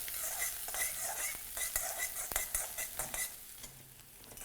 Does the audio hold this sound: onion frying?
yes